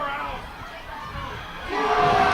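A crowd at a women's rugby match against Montreal roars in response to a big tackle, a steady mass of cheering and shouting that swells louder toward the end.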